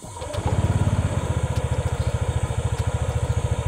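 A 2020 Honda Airblade 150 scooter starts with a quick whir and catches within half a second, then settles into a close, steady, rapid idle putter that keeps an even pulsing rhythm to the end.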